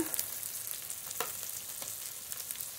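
Ground spice pastes of ginger, green chilli, dried chilli and cumin-coriander frying with softened tomato in a pan, a steady hiss broken by several short scrapes and clatters of stirring.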